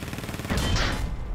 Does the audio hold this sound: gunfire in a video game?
yes